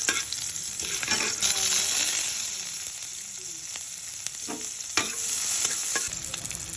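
Garlic frying in a pan for creamy chicken, a continuous close sizzle and crackle with occasional stirring scrapes and clatters, no voices.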